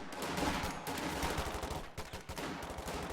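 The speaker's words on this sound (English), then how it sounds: "The sniper continues taking shots." Repeated rifle shots in a World War II real-time strategy battle, a sniper firing amid dense, continuous gunfire and explosions that fill the whole stretch without pause.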